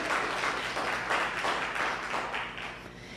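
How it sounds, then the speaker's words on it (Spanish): A church congregation at a Spanish-language sermon applauds in pulsing, rhythmic bursts of clapping, moderately loud, fading slightly toward the end. "si le va a dar un aplauso al Señor, apláudale con fuerza"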